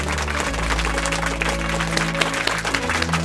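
Applause for the top five contestants on a reality show, steady clapping layered over a loud sustained musical drone with low tones throughout.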